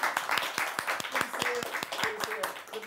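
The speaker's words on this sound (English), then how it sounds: "Big round of applause." A studio audience claps in a moderately dense round of applause, individual claps distinct and fairly close, while a voice speaks briefly over it.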